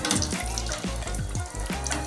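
Onion dropped into preheated oil for yam balls, sizzling loudly up close with a rhythmic series of scraping stirs every few tenths of a second, no talking.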